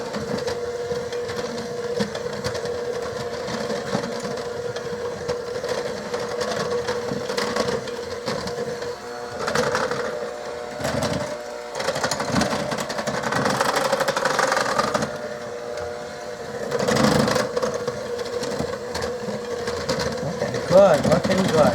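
An electric mixer running on low through gingerbread dough, a steady droning whir with uneven grinding swells as the beaters work, lasting the whole stretch while a person talks over it.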